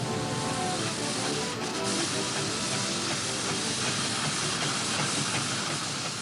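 A loud, steady hiss of escaping steam from a steam engine in Dorset fills the air, with a broad engine rumble beneath it and no voices.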